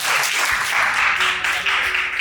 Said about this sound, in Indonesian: tepuk tangan kawan-kawan